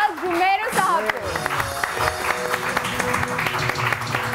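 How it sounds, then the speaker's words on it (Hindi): Studio audience on a Pakistani morning TV show claps to welcome an arriving guest. The clapping runs under music and a host's voice, with a tonal musical sting at the start. "तो जोरदार तालियों में हम वेलकम करेंगे"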